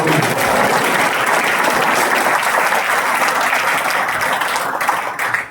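Dense, sustained applause from a seminar audience fills the whole stretch, loud and continuous, thinning slightly at the very end.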